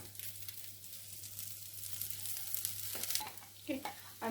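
Greased pan sizzling softly as egg batter fries for a Korean rolled omelette, a faint continuous crackle with a few brighter spits near the end.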